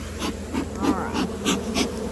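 Honeybees swarm and drone around an open hive during a split, a steady close buzz with wingbeats rising and falling as insects pass the microphone.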